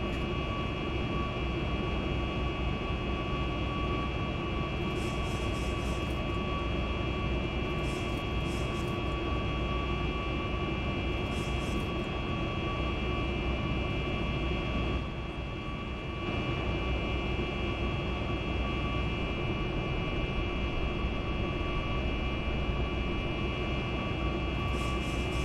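A steady, droning jet engine roar from a Boeing 737 MAX 8 climbing out in X-Plane 11 holds at an even loudness throughout, with a few faint clicks and a brief dip partway through.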